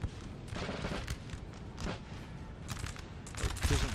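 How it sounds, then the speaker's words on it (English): Musket volleys crackle in a Napoleon: Total War battle, a steady rolling fusillade of overlapping distant shots with sharper bursts near the end, no voices. "Enfilade fire from the little village."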